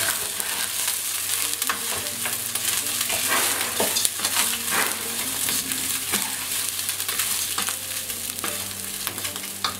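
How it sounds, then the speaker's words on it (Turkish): Rice toasts in a hot pan with oil for olive-oil stuffed peppers, giving a steady loud sizzle with repeated scraping stirs throughout. "Pirincimiz kavrulurken"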